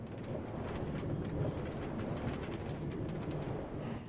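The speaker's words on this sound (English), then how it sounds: "This is what a Minecraft rail sounds like." Minecraft-style rail noise in the game Steal A Brainrot, a steady rumbling train roll with rhythmic clacking over the track, loud and close, continuous with no voices.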